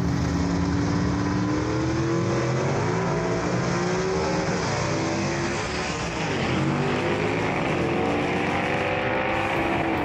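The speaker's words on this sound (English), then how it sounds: "Ernie Smith takes that Brian Harris prepared race car down the racetrack to a win" A gasser drag race car roars down the track in a Saturday Night Special drag racing event, its engine loud and steady throughout with a rising, snarling pitch and no voices over it.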